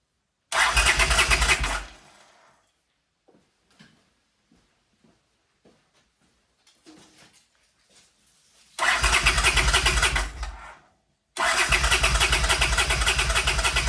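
A 1979 Honda CX500 motorcycle engine starts on choke and runs loudly for about a second, cuts out, then fires again twice after a pause with faint clicks, settling into a strong close idle.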